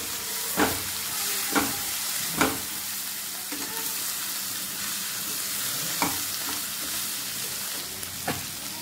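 Chopped fenugreek leaves fry in a pan for baingan bharta, a steady soft sizzle with a handful of sharp scraping stirs scattered through, close by and with no talking.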